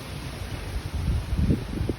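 Strong typhoon wind with heavy rain buffets the microphone with a low, rough rumble that swells and gusts toward the end.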